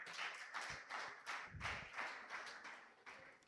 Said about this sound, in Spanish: Un aplauso para ellas, a ver los hijos, y un aplauso al Señor por las mamás.